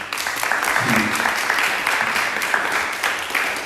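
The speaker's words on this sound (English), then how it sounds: "Can you give them a round of applause?" Audience applause for panelists after a discussion on Black masculinity, a full, sustained burst of clapping from the crowd, with a brief voice near the start.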